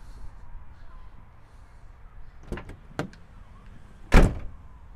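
Two solid thuds of a car door shutting, followed by a louder, heavier slam, against quiet background noise.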